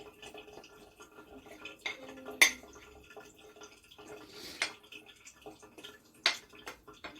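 Spices being mixed in a pan, heard as faint, sparse clinks and scrapes of a utensil against metal, a few sharper taps standing out over a quiet background with no talking.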